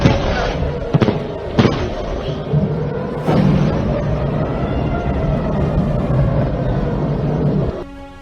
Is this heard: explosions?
yes